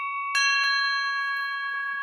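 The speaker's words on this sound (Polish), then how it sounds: "Tutaj mamy zawsze takie dzwonki, tutaj wejściowe, można zadzwonić każdym." A small cast bell at the entrance of a bell foundry gives a clear metallic strike and then rings on with a bright, sustained tone, close up and with no voices over it.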